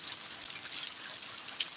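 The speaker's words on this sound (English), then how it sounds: "it's pouring down rain." A downpour of heavy rain keeps up a constant dense patter and hiss, steady and close throughout with no one speaking.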